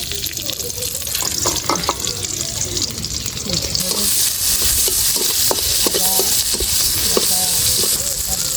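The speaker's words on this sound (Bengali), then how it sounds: "পরিমাণ মতো তেল দিয়ে দিব। দিয়ে দিব পেঁয়াজ কুচি" Chopped onion sizzles in hot oil in a pan, a steady broadband frying hiss with occasional stirring clinks, close and fairly loud throughout.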